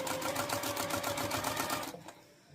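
A sewing machine runs in a quick, even rapid stitching rhythm while back stitching a scrappy quilted pot holder, then stops abruptly near the end.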